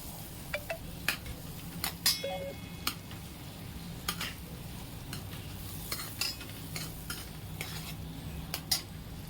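Butter melting in a pan for butter chicken while a utensil stirs it, giving a run of light scraping clicks and taps over a soft, faint sizzle, close and with no talk.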